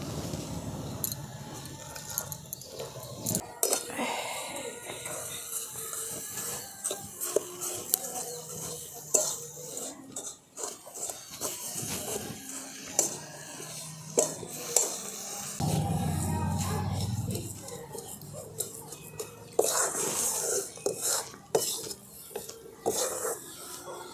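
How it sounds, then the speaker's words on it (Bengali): Grated coconut and jaggery stirred in a wok, close, uneven scraping and rubbing with occasional metallic clanks against the pan, continuous throughout with no voices. "গুড় আর নারকেলটাকে খুব ভালো করে মিশিয়ে আমি একটা পুর তৈরি করে নিয়েছি"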